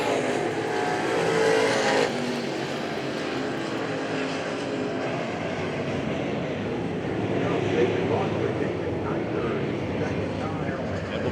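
Late model race cars running a heat race at Hagerstown Speedway, a steady loud roar of engines passing with a brief surge at the start, under continuous crowd and track noise and a voice in the background.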